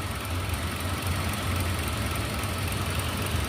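A car engine idles steadily after being started, a continuous low rumble with a faint knocking texture, close and alone, while the alternator is failing.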